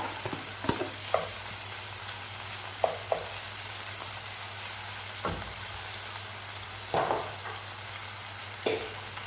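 Vegetable fried rice sizzles steadily in a hot pan, joined every few seconds by the scrape and clatter of a utensil stirring and tossing it close by.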